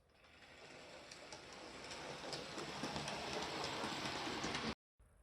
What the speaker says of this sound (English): at 8:20 a.m. the third train of the day departs